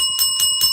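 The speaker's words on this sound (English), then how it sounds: "ring that bell again" A bright bell rings three times in quick, evenly spaced strikes, loud and close, each one holding a sustained metallic tone.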